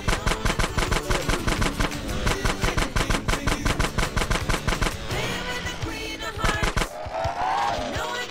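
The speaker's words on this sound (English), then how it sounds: "Stop shooting that thing right next to my ear!" Rapid automatic gunfire in the video game GTA San Andreas, loud and close, bursts of evenly spaced shots for several seconds before trailing off into other game noise, with no talking.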